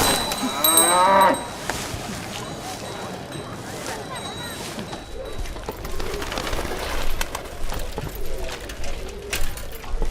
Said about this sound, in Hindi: गुलाब बहन, हमारे मोहल्ले में इंसान कम और भैंसें ज्यादा रहती हैं